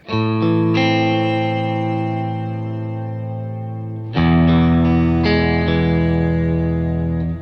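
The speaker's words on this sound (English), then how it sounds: "you can pitch this up a whole octave and it'll sound like this" Sustained chords ring out drenched in bright, shimmering reverb pitched up an octave on a Fender Tone Master Pro, adding a high octave layer, changing to a new chord midway.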